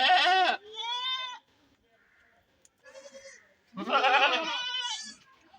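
Goats on a farm bleat in loud, quavering calls, a long cry opening the sequence and another swelling near the end, with quieter bleats and pauses in between.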